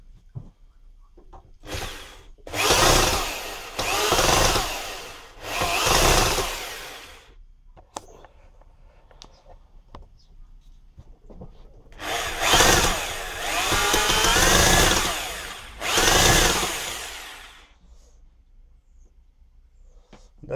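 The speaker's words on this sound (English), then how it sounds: "This is only a small drill." A small electric drill on a workbench whirs in several bursts of a few seconds each, starting and stopping with quiet pauses between runs, close and fairly loud, with no talking.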